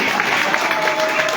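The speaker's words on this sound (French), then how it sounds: "faites un tonnerre d'applaudissements." A crowd of listeners claps at a political party's speech finale, a dense, steady wash of applause that holds level throughout, with voices mixed into the noise.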